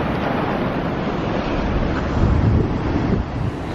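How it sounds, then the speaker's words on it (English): Sea waves wash onto a beach in a steady, loud broadband roar mixed with wind buffeting the microphone, swelling slightly near the end, with no voices. "Look at these waves, you can hear it."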